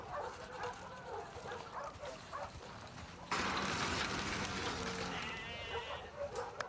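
A dog in The Last of Us Part II barks and yips in a series of short close calls, with a person talking in between; a louder burst of noise follows.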